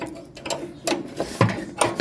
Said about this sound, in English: It's a 9/16 wrench.